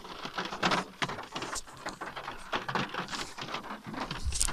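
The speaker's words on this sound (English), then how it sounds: "There's rain. I hate rain." Rain falls as a close, uneven patter of drops that fluctuates in intensity throughout, with no speech.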